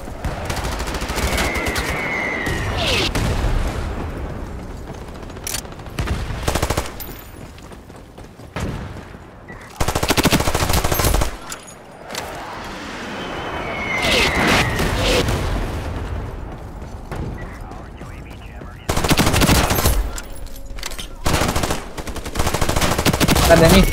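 A Thompson submachine gun fires in the shooter game Ironsight in repeated loud automatic bursts spread across the scene. Echoing booms and quieter gaps fall between the volleys, and there is occasional talk.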